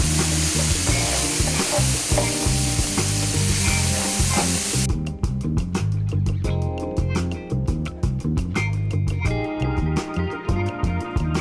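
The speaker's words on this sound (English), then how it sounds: "And then in go all that garlic that we just chopped, right in there." Chopped garlic sizzling with pancetta in a pan for creamy parmesan pasta, a loud crackling fry. It is stirred with repeated scraping strokes, then goes on as an even, close-up sizzle.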